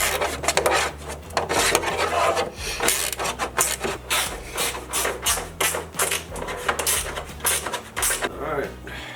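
A screw is driven into a Harley Davidson tour pack with a ratchet or driver, producing close, rhythmic rasping clicks in repeated strokes while someone talks over the work.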